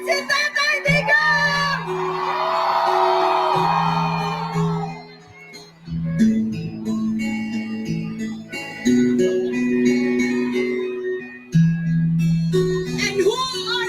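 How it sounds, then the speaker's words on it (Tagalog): A rally crowd of political supporters in the Philippines cheers and shouts loudly and continuously, with a voice calling out over a sound system and swelling whoops between phrases. "Isang malaking hiyaw!"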